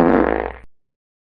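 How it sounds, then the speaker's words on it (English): A loud, close fart sound effect in an animated cartoon skit gives a single buzzing, sputtering blast of about half a second that cuts off abruptly. "Kirby, why the heck did you fart on my face?"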